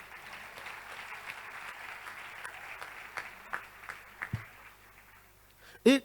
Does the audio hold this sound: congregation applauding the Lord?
yes